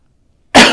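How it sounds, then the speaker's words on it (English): A single sharp human cough, loud and close, bursting suddenly after near silence and lasting a fraction of a second. "I'm sorry about that cough"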